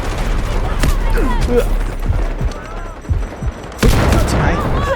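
Gunfire in the shooter game Delta Force: bursts of rapid automatic shots and single cracks crowd the clip, loud and close, with a heavy volley near the end, mixed with game sounds and faint voice chatter.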